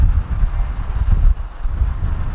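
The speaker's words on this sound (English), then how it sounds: "It's super windy out here, guys, so just bear with me." Strong gusty wind buffeting the microphone, a loud low rumble that surges and dips without pause.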